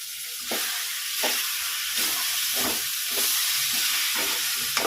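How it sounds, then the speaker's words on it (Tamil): Tomato, onion, ginger, garlic and curry leaves sauté in a pan for a Pulicat-style fish kuzhambu, a steady close sizzle broken by regular scraping stirs roughly every second, with no talking. "தக்காளி வெங்காயம் இஞ்சி பூண்டு கருவேப்பிலை எல்லாம் போட்டு வதக்குறோம்"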